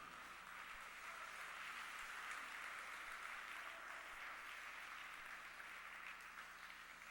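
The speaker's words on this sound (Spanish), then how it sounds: "Dele fuerte aplauso al Señor." A congregation at a Spanish-language church service applauds, a steady, fairly faint wash of clapping heard from a distance that continues evenly throughout.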